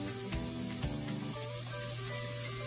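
Tofu sizzling as it hits a hot pan while cooking vegan pad thai, a steady close frying hiss with a few soft clinks early on and no talk.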